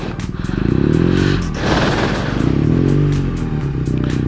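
Motorcycle churning through thick mud and slush on an off-road track near Chitkul, engine loud and close with rising and falling revs, tyres spinning and clattering, the throttle swelling twice as the bike fights for grip.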